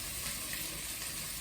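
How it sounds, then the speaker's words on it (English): Chicken sizzles in butter in a pan for butter chicken, a steady, close, crackling hiss that runs without a break and with no talking. "so delicious, sizzling in the butter."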